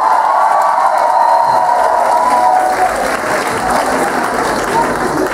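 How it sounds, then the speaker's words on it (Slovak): A concert audience at a rock album launch in Bratislava's MMC breaks into loud, dense applause, a continuous wash of clapping with crowd cheering mixed in, sustained throughout. "Veľký potlesk!"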